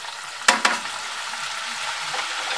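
Powdered spices sizzle in a pan of fish korma base with fried garlic-ginger paste over a slow flame, a soft steady frying hiss with a couple of sharp stirring clicks near the start.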